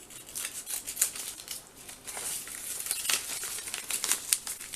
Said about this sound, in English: You then get these extra long loops, and we're going to cut them, and we're going to give them fishtails.